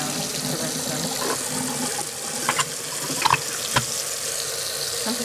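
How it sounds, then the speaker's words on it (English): Wool being rinsed under a running faucet: a steady stream of tap water splashes continuously, with a few brief clinks and splashes as the fibres are handled, and faint talk beneath. "So you can kind of run them under the faucet."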